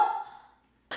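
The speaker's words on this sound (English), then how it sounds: "That's a dog." A dog gives a single short bark that quickly fades, followed by the start of another sharp sound at the very end, close by with no other noise.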